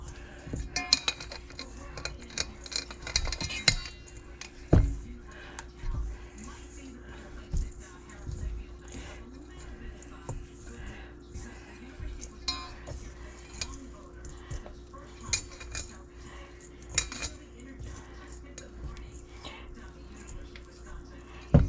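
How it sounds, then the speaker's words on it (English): Sausage ball mixture is worked by hand in a bowl, giving faint, irregular squishing, tapping and occasional clinks against the dish, quiet and close, with a steady low hum in the room. "So I am going to mix this all up."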